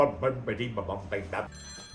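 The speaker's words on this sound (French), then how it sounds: "Je sais, le téléphone sonne!" A telephone bell rings in repeated short bursts, fairly close and clear, with a voice talking over and between the rings.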